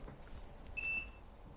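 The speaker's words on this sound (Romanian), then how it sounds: "Face un bip" A CARBEST LithPowerUnit 80 LiFePO4 power bank gives one short, clear electronic beep as it switches on, a single brief tone against a quiet room.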